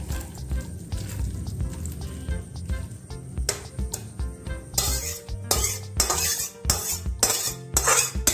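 Green bean, potato and shrimp curry poured and scooped from a pan into a serving bowl, with close scraping, ladle clinks against metal and several louder bursts of scooping and tapping toward the end.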